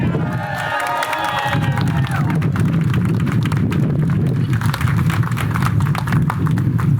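A crowd at a 40th anniversary celebration for Up In Smoke cheers, whistles and applauds loudly for Lou Adler, a sustained roar of voices and clapping with high shouts early on.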